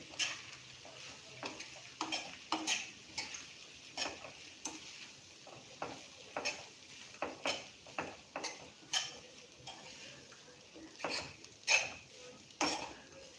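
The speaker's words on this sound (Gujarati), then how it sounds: "હવે એને આપણે મિક્સ કરી લેશું." Washed poha being stirred in a pan over a low gas flame, with a spoon scraping and tapping against the metal in a steady rhythm of soft clicks, joined by a faint sizzle.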